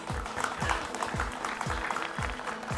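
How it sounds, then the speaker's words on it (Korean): Audience applause at the close of the 2021 Korea Open Debate Competition university final, a steady spread of clapping with rhythmic low thumps and a voice speaking underneath. "여기 계신 우리 모두를 위해서 다 함께 박수를 보내드리죠"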